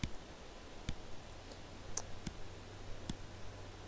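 Calculator keys pressed one at a time, several sparse, sharp little clicks at uneven intervals against a quiet room hum.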